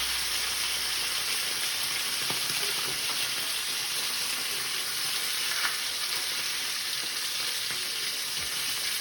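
Steak fries in butter with garlic, giving a steady, even sizzle and crackle that holds for the whole stretch. Occasional faint clicks and stirring sounds come through, and no one speaks.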